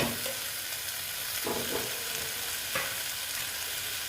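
Eggs and chopped capsicum sizzle in a pan while being stirred and pressed, a steady close frying hiss broken by a few louder scraping stirs, with no talking.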